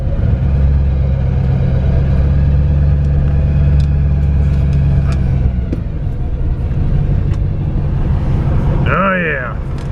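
A 1968 Ford Galaxie 500 drives on a winter road, its steady engine rumble and road noise filling the cabin continuously at close range, with a brief higher tone near the end.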